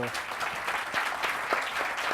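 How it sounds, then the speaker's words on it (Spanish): An audience applauding at a special news event on Africa, a steady full round of clapping at close range with a few voices mixed in. "Un aplauso por el trabajo"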